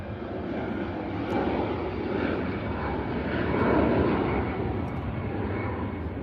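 Airliner departing from Manchester Airport, a steady broadband engine roar heard from a distance that swells slightly and stays continuous throughout.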